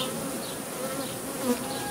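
Steady buzzing of many honey bees close by at an open hive frame, a continuous droning hum with small swells in pitch.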